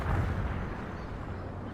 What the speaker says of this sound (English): Fire as soon as your launchers are ready.